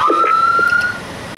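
A loud electronic siren wail sounds briefly: one high tone sweeps up slightly and holds, then fades out as the clip ends.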